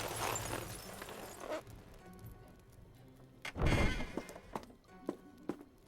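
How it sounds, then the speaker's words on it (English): In a video game, a deep, heavy thump lands on a door, echoed by softer knocks and creaks around it, with a rushing noise at the start. "Don't let the guy who's thumping at the door hear you."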